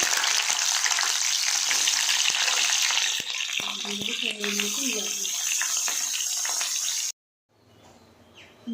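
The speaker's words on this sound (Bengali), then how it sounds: "তেলটা গরম হয়ে গেছে, দিয়ে দেবো কাঁকরোলগুলো" Sliced pointed gourd (kakrol) with a little turmeric hits hot oil in a home kitchen, setting off a loud, steady sizzle and crackle with stirring clatter, then a sudden cut to quiet background with a voice.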